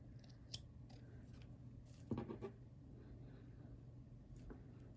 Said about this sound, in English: I think I'm going to use my scissors